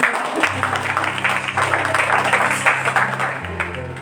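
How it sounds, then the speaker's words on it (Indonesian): Church congregation clapping during Sunday worship at GKIN Adonai Madiun, a moderately loud wash of applause over a sustained low organ or keyboard tone. "Boleh berikan tepuk tangan lagi."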